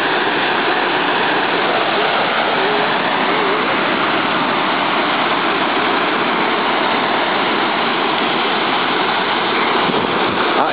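Water rushes and bubbles through the Aratiatia rapids in a loud, steady roar that fills the whole stretch without a break.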